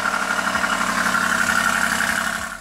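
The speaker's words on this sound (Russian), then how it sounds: "Звук выхлопа-то почти эмошный вообще." A BMW X5 M50i engine idling with a deep, burbling exhaust rumble, steady and close, fading slightly at the end.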